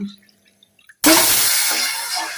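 After near silence, water is suddenly poured into a pot of sugar for syrup, a loud, close, continuous splashing rush that holds steady to the end.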